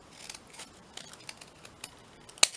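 Scissors snip through paper pages in a quick series of light, close cuts, ending with a sharper click, with no talk.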